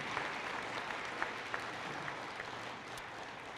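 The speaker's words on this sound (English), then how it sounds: "let's give them another round of applause in welcoming them to our community." Faint, distant applause from a campus convocation audience welcoming new faculty and staff, a soft continuous patter of clapping with a few sharper claps.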